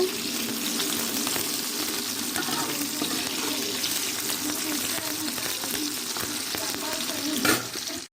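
Capsicum frying in a pan for paneer masala, a continuous close sizzle with light stirring scrapes and a brief louder clatter near the end.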